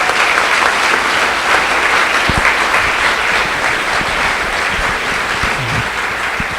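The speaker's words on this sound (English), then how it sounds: "so let's please give them a round of applause." An audience at an Ojai Chautauqua forum applauds the host committee, dense loud clapping sustained throughout with a few sharper individual claps near the end.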